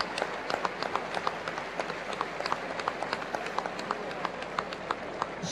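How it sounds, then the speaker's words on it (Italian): An audience at a festival applauds a group of young people, with steady clapping spread across a large crowd, fairly distant and moderate in level. "Facciamo un applauso a tutti i ragazzi che sono qui presenti."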